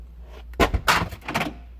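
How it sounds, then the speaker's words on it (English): A BMW car door shuts after a lock actuator is fitted, a couple of short solid thunks and rattles close by in a quiet garage. "closed my door."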